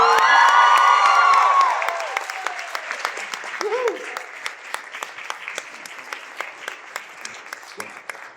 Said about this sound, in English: let's give a rip-roaring round of applause for Mr. Andrew Garfield